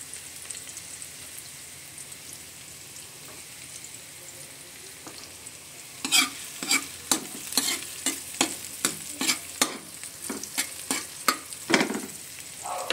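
Chicken browns in a pan for adobo, a faint low sizzle building into a louder crackling fry midway with rhythmic scraping strokes of a spatula, close and with no voices.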